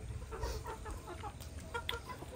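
Chickens cluck softly around a rural Vietnamese home, a scatter of short, fairly faint calls over a low background rumble with no talking.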